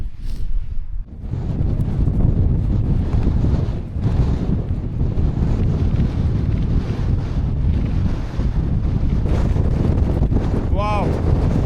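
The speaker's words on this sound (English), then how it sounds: "If it wasn't for the wind, it would be absolutely perfect." Strong wind roars and buffets the microphone almost without pause on an exposed fell top at Gray Crag, rising and dipping in loud gusts.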